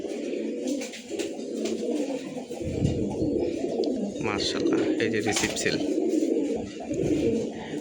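A male racing pigeon of the Marshal line, held in the hand, coos in low, throaty rolls beneath steady nearby conversation.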